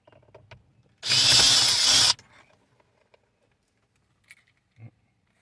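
A power drill runs in one loud, steady burst of about a second, backing out Phillips screws on a Nissan Maxima driver airbag, followed by faint clicks and small handling noises.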